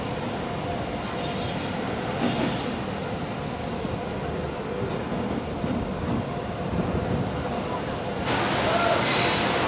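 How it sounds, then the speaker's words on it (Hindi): The Ekta Express pulls into platform 3 at Chandigarh Junction on its first inaugural run, a loud, continuous rolling rumble of wheels and carriages with a few brief brighter surges of metallic clatter. "और अपनी ट्रेन आई है चंडीगढ़ के प्लेटफॉर्म नंबर 3 पे।"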